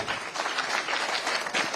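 Applause at a public forum with people living with disabilities, a brief, steady burst of many hands clapping at moderate loudness.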